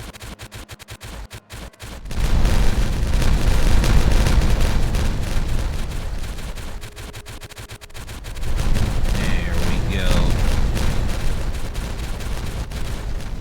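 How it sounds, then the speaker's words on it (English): Explosions set off in the Timberborn video game, heard as a dense rumbling barrage of booms and crackles that roars for several seconds, dips, then bursts again, with a brief spoken remark over it. "So let's take a nice look at the explosion here that we have."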